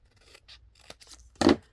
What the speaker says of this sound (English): Cut it as straight as you can.